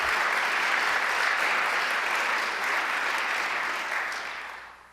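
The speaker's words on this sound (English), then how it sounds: "I think that deserves a round of applause" Sustained audience applause at a governor's event on higher education, a dense, even roar of clapping from a large room that holds steady and then fades toward the end.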